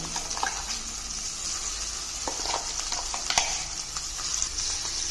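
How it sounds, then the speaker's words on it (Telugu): Brinjal and tomato chutney being stirred in a hot pan with tempering, a steady soft sizzle beneath scraping spoon strokes and scattered light clicks, moderately close, with no voices. "ఇలా మంచిగా కలుపుకోవాలి"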